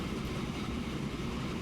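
A train rumbles steadily along the rail network in Transport Fever, a transport-building game, as a continuous close rolling drone with a faint clatter and no pauses.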